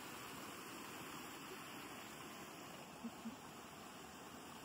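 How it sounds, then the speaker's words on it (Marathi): Fast-flowing water rushes steadily at night during crab catching by torchlight, a dense unbroken roar close by, with a couple of faint knocks partway through and no talking. "मी पाणी बघा फास्ट."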